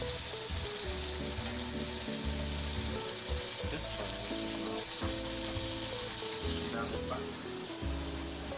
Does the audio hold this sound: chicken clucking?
no